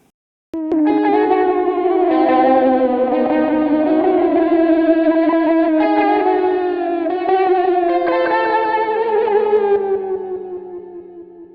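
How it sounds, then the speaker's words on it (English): A Lexicon PSP 42 delay emulation turns a sustained melodic tone into a big pitch-shifted, echoing texture, with smeared repeats layering over one another for about ten seconds before fading out. "So this has got like a real big pitch shift, but a really nice effect."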